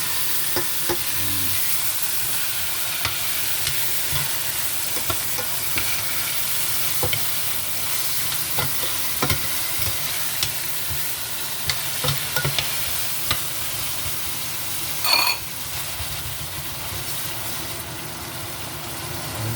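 Sautéing in a pan before salted fish is added for a Jamaican meal, heard as a continuous loud sizzle broken by repeated scraping and knocking strokes of a stirring utensil, with no speech.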